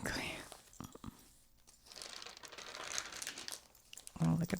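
Pages of an old, water-damaged 2003 home-and-garden magazine crinkle and rustle as they are flipped, close and soft, with faint whispering-like breathy texture between the crumpling bursts.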